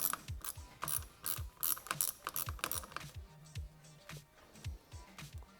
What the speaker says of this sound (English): We're going to begin by undoing the pivot bolt nut from the bottom.